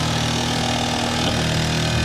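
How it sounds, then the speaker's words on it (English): A Mamod SR1 toy steam engine running fast, its cylinder exhausting steam in a steady, rapid hiss and chuff with a continuous mechanical whir, close and fairly loud, with no talking. "the steam coming out here at the top. That's the exhaust from the cylinder"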